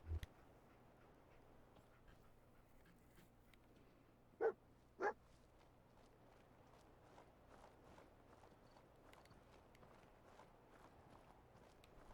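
Dogmeat, the dog companion in Fallout 4 VR, gives two short, sharp barks close together, standing out once against a quiet game ambience with faint footsteps.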